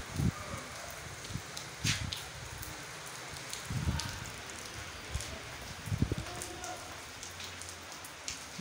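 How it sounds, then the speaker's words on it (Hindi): Torrential rain hammers down over an emptied market street in Allahabad, a loud continuous roar of falling water broken by sharper splatters and drips close to the microphone. "बड़ी ज़ोरदार बारिश आ रही है"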